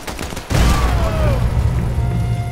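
In the WWII shooter Sniper Elite 4, a shot grenade bursts into a loud, booming explosion after a short lead-in of quieter gunfire, and the blast's rumble and debris ring on to the end.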